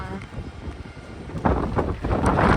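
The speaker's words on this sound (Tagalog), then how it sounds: "sobrang windy ngayon" Strong wind buffets a phone microphone outdoors while someone drives toward a school under dark clouds, a continuous rumbling roar that swells louder partway through.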